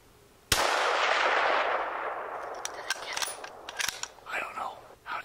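Rifle shot at a cow elk during a hunt outdoors, one sudden loud crack with a long rolling echo that fades over a few seconds, followed by faint whispering.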